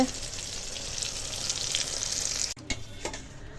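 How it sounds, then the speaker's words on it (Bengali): Eggplant slices fry in a pan with a close, steady sizzle and faint crackle that fades to quieter, uneven spitting near the end. "দেখো এখন বেগুন ভাজা হচ্ছে"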